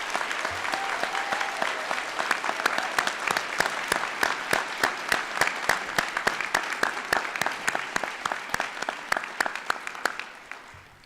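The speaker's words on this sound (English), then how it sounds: "Please give a big round of applause of all these tremendous honorees." Large audience applauding honorees at a youth recognition ceremony, loud continuous clapping with crisp individual claps standing out, sustained for several seconds before cutting off.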